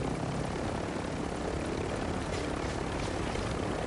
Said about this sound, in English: I took their helicopter.